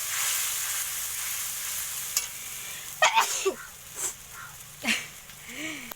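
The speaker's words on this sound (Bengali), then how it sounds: "দেখো মশলাটা কষাচ্ছি" Spice paste (masala) for chicken curry sizzles and fries in a pan with a steady hiss, broken by scraping stirs and a few short breathy sounds.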